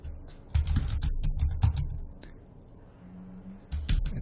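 Keys tapped on a computer keyboard close up, a quick burst of clicks, a short pause, then a few more keystrokes, with no talking.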